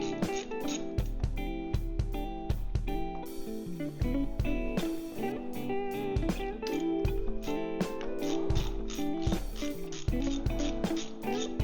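A ratchet clicks quickly and loudly, near at hand, as it backs out the 5 mm Allen bolts on an ATV valve cover, in quick repeated strokes with short pauses and no talk.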